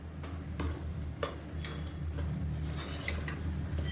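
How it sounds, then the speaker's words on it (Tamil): Masala powders, including chilli powder, stir-fried in oil in a pan for mutton curry, with a steady low sizzle and scattered scraping, clicking strokes of a spoon against the vessel, no talking. "இப்போ இதையும் சேர்த்து எண்ணெயில் நல்லா ஒரு பரட்டு பரட்டி விட்டுக்கலாம்"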